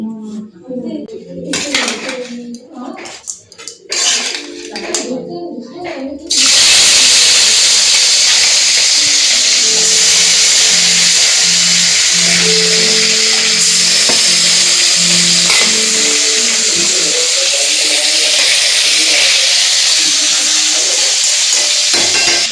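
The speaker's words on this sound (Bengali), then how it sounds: "এই যে আমার তেল গরম হয়ে গেছে, এখন মাছ ভেজে নেব" Small fish go into hot oil for a Bengali home fish and potato curry, and a loud, steady sizzle and hiss takes over after some clattering and handling of pots. The frying then runs on, close and continuous, with faint kitchen sounds beneath.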